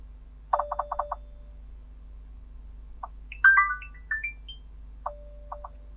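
A ringtone alert plays on a Google Pixel 10a phone: quick bursts of bright electronic tones, then a short rising and falling melodic phrase, then more tone bursts, clear and alone against a quiet background.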